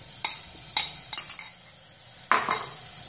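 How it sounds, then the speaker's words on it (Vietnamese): Meat stirred in a pot with a little cooking oil for a Vietnamese meatball and katuk-leaf soup, giving a few distinct scraping, clattering stirs over a soft sizzle, close and fairly quiet with no talking. "đảo cái phần thịt này lên."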